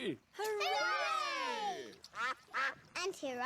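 A voice imitates duck quacking, drawn-out nasal quacks followed by several shorter quacking bursts, loud and close.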